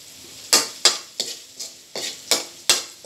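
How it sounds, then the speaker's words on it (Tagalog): Garlic and onion sauté in a pan for spaghetti sauce, with a steady sizzle punctuated by seven sharp, regular spatula scrapes and taps close by, no talking. "Medyo brown na yung bawang,"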